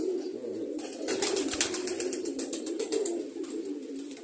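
Domestic pigeons cooing in repeated soft throaty phrases, close and clear, with several birds overlapping in a steady rhythm and no talking.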